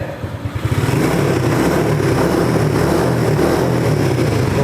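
A custom motorcycle engine revs up from a low idle into a sustained, loud roar, close to the microphone.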